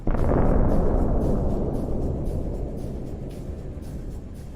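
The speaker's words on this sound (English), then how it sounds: "Parts of the Russian Buk M1 missile system spectacularly scattered in all directions." A Russian Buk M1 missile system explodes in a loud, deep blast with a long rumbling roar that slowly fades away over several seconds.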